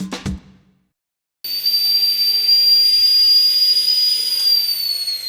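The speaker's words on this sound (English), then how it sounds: "I used an old kettle with a piece of 50mm steel pipe for my steamer." Steady loud hiss with a high whistling tone from an old kettle steamer fitted with a 50mm steel pipe, starting after a brief knock and a second of silence and running continuously to the end.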